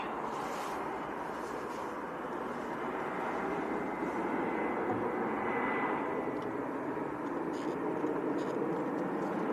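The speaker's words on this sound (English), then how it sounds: "this is Jet2 from Geneva, another 300 series 737" Jet2 Boeing 737-300 airliner at Leeds Bradford Airport, a steady broad jet engine roar heard from a distance, holding level throughout with faint background noise.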